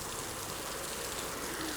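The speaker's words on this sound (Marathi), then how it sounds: "पाऊस चालू झालेला आहे आणि आपण पोचलेलो आहोत पाली बसस्थानकमध्ये" Rain falls at Pali bus station in the evening, a steady fine hiss of drops on surfaces, soft and even over a couple of seconds without speech.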